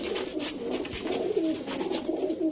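Sialkoti high flyer pigeons coo softly close by, low repeated throaty calls over a faint background hiss, with no talk heard.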